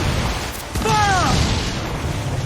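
Ship cannons fire in the pirate naval game Assassin's Creed IV Black Flag, with a couple of quick booming blasts followed by a shouted voice over a steady rumbling sea-battle background.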